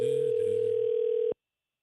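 A steady telephone line tone hums alone and unbroken while a call is being transferred, holding at a constant loud pitch for over a second before cutting off abruptly into silence.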